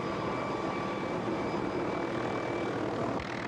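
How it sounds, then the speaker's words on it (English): A helicopter hovers in gusty winds during a flood rescue, its engine and rotor making a steady, loud drone with a faint whine, heard alone without talk. "Fighting gusty winds, the helicopter struggles to maintain its position while Cummings grabs hold"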